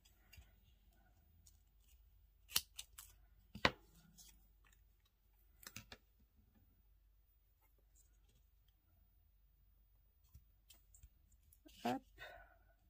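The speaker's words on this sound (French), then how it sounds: "Un ciseau." Scissors snipping through double-sided tape, heard as a few sharp, isolated clicks and snips spread across an otherwise quiet stretch, close but fairly soft.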